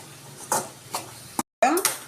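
Pea sundal with grated coconut stirred in a pan, a few close scraping clinks of a spoon against metal, with someone speaking Tamil in between.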